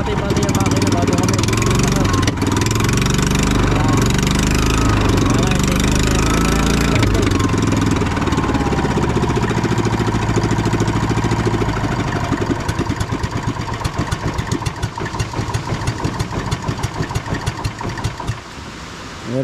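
A boat's engine idles in a steady, dense low rumble with a continuous mechanical drone, close and loud throughout, with voices faintly underneath.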